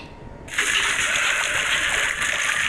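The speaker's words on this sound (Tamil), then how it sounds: "அந்த பேபி சீடை வந்து வச்சிட்டோம், தண்ணி ஊற்றிட்டோம்." Water pours onto a baby seed in a video game, a sudden loud, steady gushing splash that starts abruptly and keeps running close up.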